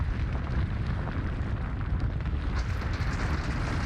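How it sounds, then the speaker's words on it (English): A thunderous explosion roar in the Root Double video game, a continuous, loud, dense rumble that holds steady for several seconds with crackling bursts on top and no voices. "Boom! A thunderous roar suddenly rose up from behind him."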